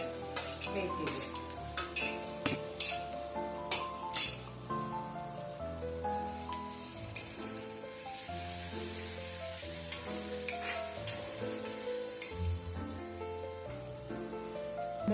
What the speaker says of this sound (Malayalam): അതിലേക്ക് നമ്മൾ ചതച്ച് വെച്ചിരിക്കുന്ന ഇഞ്ചി, വെളുത്തുള്ളി, പച്ചമുളക് എല്ലാം ചേർത്ത് അതിൻ്റെ പച്ചമണം പോകുന്നത് വരെ വെയിറ്റ് ചെയ്യും